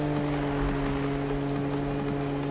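Toyota Supra tuned under 250 horsepower with an aftermarket exhaust accelerates in the racing game Need for Speed 2015, a steady, loud engine drone with a sustained tonal buzz and no talk over it.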